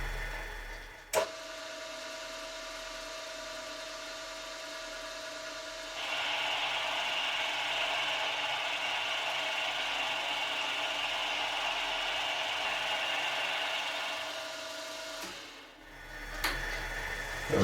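A machine tool spins at 580 RPM and bores a hole with quill feed. A steady mechanical hum becomes a brighter, louder cutting whine partway through, runs evenly for several seconds, then winds down to a halt.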